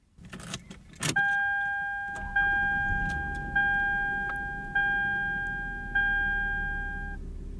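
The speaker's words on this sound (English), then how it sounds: "Love the chimes that this car makes. It's very classic Toyota, very nostalgic sound." A 2005 Toyota Solara sounds its repeating two-tone door chime five times in an even rhythm over the hum of an idling engine, after a jangle of keys and the engine starting.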